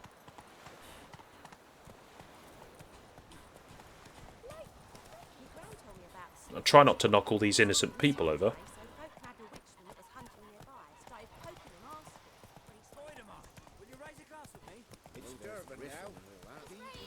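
Horse hooves clip-clop in The Witcher 3: Wild Hunt as Geralt's summoned horse arrives, a brief loud burst lasting about two seconds amid game ambience, with someone talking over the gameplay throughout.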